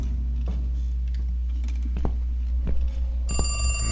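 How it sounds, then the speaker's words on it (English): A ghostly telephone rings in The Cat Lady video game, sharp repeated ring bursts over a low steady hum, growing denser and brighter near the end, with no voices. "that's a creepy ghost phone"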